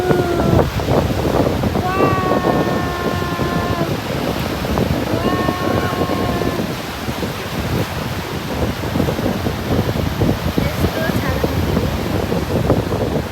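Sea waves breaking on a Japanese seashore give a steady, loud roar of surf mixed with wind buffeting, and voices speak briefly over it.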